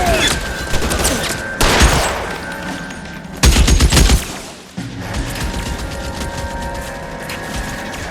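Gunfire rattles through a firefight in the PS4 video game L.A. Noire, with bursts of rapid shots and several louder, heavier blasts over a constant background of combat noise.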